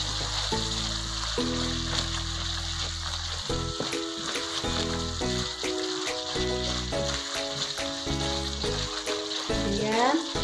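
Galangal drops into a hot pan of fragrant frying spice paste for a fried beef tripe dish. A steady close sizzle crackles over a layer of music, with bursts of spitting oil throughout.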